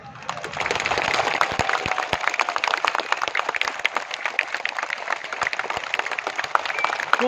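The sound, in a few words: crowd applause at political rally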